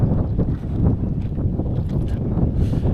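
Strong wind buffeting a microphone outdoors in Moldova, a continuous rough low rumble with gusty swells and no voice.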